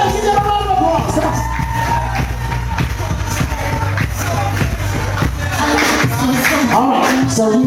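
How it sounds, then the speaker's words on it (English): Wedding guests in a reception hall cheer, whoop and clap for the introduced bridal party, a loud continuous crowd din with shouts rising over it. "One more time, give them a round of applause."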